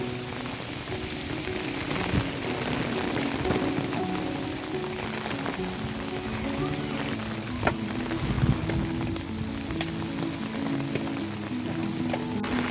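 Heavy rain pours down continuously on a farm field, a thick patter of drops on surfaces with a low steady hum underneath and no voices.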